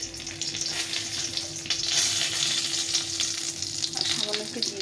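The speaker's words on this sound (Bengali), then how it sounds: "এখন আলু ভাজার তেলে আমি একটা শুকনো লঙ্কা, দুটো শুকনো লঙ্কা দিয়েছি, একটা তেজপাতা" Dried red chillies and a bay leaf sizzle in hot oil left over from frying potatoes for a shol fish curry, a steady close crackle with occasional stirring and no voices.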